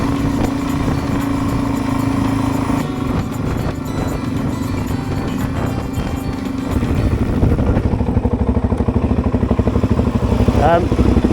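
A Suzuki DRZ400 dirt bike engine idles and revs near a country town in Canungra, a loud, continuous buzzing rumble that rises sharply in pitch toward the end, with voices talking over it.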